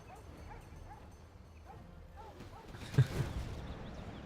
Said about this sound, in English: Can you just hear a load of dogs barking in the middle of this map?